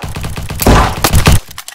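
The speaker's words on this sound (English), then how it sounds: "oh no, there's a guy shooting me" Gunfire in the video game Bad Business, heard as a loud, close, rapid burst of automatic shots lasting under two seconds.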